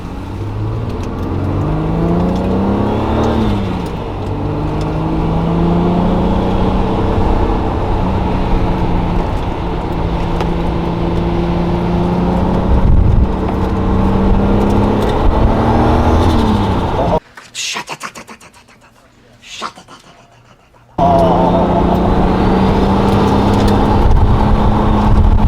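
A 650-horsepower LS3-engined supercar revs hard and holds high engine speed while spinning to warm its tires, loud and close with rising and falling tones; the roar cuts out briefly near the end, then resumes.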